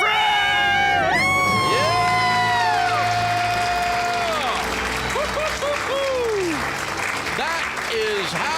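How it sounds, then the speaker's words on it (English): A studio audience cheers, whoops and applauds loudly after a debt-free scream on a money advice radio show, with a voice ringing out over the sustained crowd noise. "Let's hear a debt-free scream."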